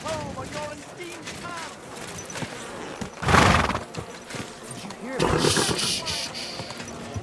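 A horse in the video game Kingdom Come: Deliverance II whinnies loudly amid clip-clopping hooves and game ambience, with a louder burst of neighing in the middle and a second surge near the end.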